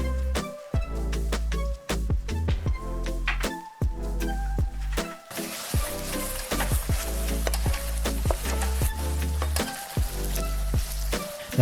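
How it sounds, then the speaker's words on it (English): Chicken stir-frying in a wok sizzles and clatters, with repeated sharp scrapes and tosses in an irregular rhythm, loud and close, no voices. "The whole stir-frying takes less than 5 minutes."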